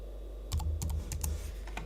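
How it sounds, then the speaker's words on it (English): Quick bursts of keystrokes on a computer keyboard, typing nonsense text into a Nearpod post, close and fairly loud, a short run of uneven clicks alone with no talking. "I'm just typing in nonsense."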